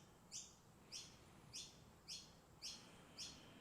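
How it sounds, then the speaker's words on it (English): A bird chirps outdoors in six evenly spaced, bright, sharp calls about half a second apart, faint and distant over a quiet background during a calm indoor exercise session. "there's a bird outside"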